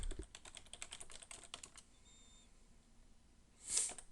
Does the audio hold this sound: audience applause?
no